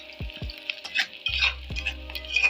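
Onion frying in a pan while being stirred and broken apart, a close crackling sizzle with scraping spatula strokes and a few sharp clinks against the pan.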